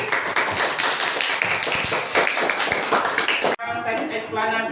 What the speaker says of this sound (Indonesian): Coba kita berikan tepuk tangan untuk kelompok 1.